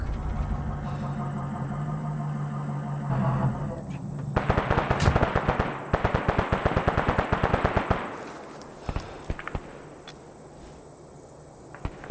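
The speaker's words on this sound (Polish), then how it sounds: "Słyszę strzały, ale nie mogę odpowiedzieć." Arma 3 battlefield gunfire: rapid bursts of machine-gun and rifle shots, loud and close, clustered over a few seconds with scattered single cracks after, over a low engine rumble and brief radio-style voices.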